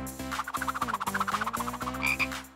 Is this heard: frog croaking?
yes